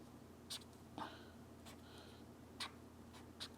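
A pen writes by hand in an Erin Condren planner, making faint scratchy strokes in a few short bursts against a quiet room.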